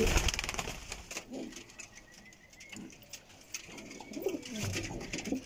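Racing homing pigeons on a rooftop loft coo in low, soft murmurs that come and go over several seconds, with faint wing and foot patter and background noise around them.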